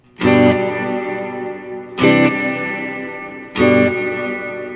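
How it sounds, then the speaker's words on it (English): Three strummed electric guitar chords through the hall setting of a Biyang RV-10 Tri Reverb pedal, each attack followed by a brief echo flutter and a long, spacious sustaining tail, with no voices. "So here the Hall has like kind of a couple echoes and then it kind of spaces out"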